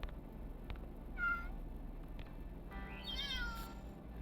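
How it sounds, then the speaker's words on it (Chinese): Cartoonish cat meows from the mobile game Cats and the Secret Forest: a short mew, then a longer wavering meow, both fairly quiet over a soft background hum. "还有各种猫叫"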